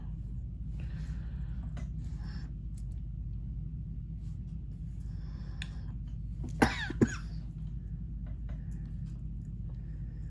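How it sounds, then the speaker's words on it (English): Two quick, sharp asthmatic coughs break through a steady low hum, with faint rustling and handling sounds around them. "Excuse my cough, I got asthma and it's terrible."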